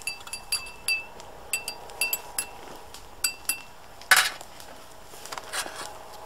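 Rum and lime stirred in a glass for a cocktail, with a spoon striking the glass in a run of light, irregular clinks, followed by one louder clatter near the end. No one speaks.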